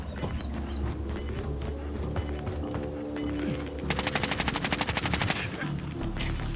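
Automatic and single gunfire in Call of Duty on Rebirth Island, with bursts crackling over game ambience and a sharper rapid volley near the end.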